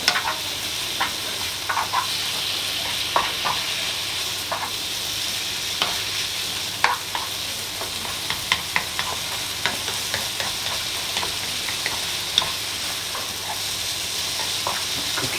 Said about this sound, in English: Cooking nice now. You can hear it sizzling